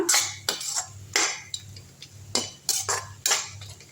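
Quail masala being sautéed in a pan, with about eight sharp metallic scrapes and clanks of a ladle against the pan at an uneven rhythm over a faint low sizzle.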